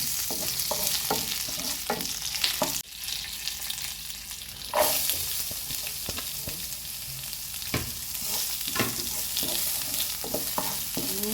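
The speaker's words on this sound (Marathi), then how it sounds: "कांदो घालता" Onions fry in a pan for Goan mutton pepper masala, a steady bright sizzle with repeated scraping stirs and spoon knocks, close and continuous throughout.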